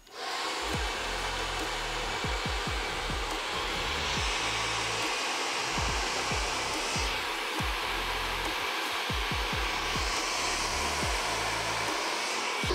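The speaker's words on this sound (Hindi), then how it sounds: "इसमें आपको हेयर ड्रायर अपने बालों के पास लेके जाना होगा" A hair dryer blows a steady, loud rush of air close to a man's hair during styling, with rhythmic brushing strokes from a brush during back combing adding repeated soft thumps beneath the continuous whoosh.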